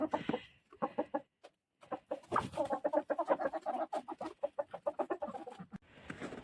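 Several chickens cluck close by in quick, chattering bursts in snow, with short pauses between, clucks overlapping busily through the middle.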